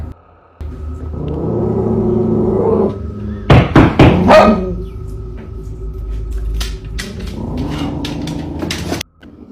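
A dog inside a house barks at something outside, a burst of several loud, close sharp barks breaking through a steady low hum, then quieter noise after.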